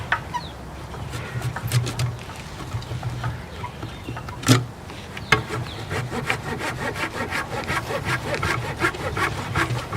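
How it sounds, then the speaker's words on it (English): Roots of a young black walnut bonsai are cut back outdoors with steady rasping, sawing strokes, while birds chirp and coo in the background. "We're going to have to do a little root pruning"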